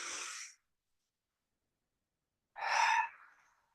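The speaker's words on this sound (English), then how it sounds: "take a breath in. Exhale." Two breaths during breathwork: a short airy exhale trails off, then after about two seconds of silence comes a fuller, louder breath. Both are close and breathy, with no talking.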